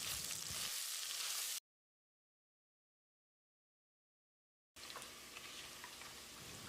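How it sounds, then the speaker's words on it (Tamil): About 150 grams of sliced large onions sauté in a pan for Chettinad mutton biryani, giving a steady, faint sizzle broken by a stretch of dead silence in the middle. "வெங்காயத்தை பொன்னிறமாக வதக்கிடலாம்."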